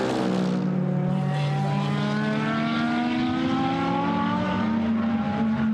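GT race cars of the Blancpain GT Sports Club brake into a corner at Silverstone. A loud, continuous engine roar drops in pitch as they slow, with several engine notes overlapping.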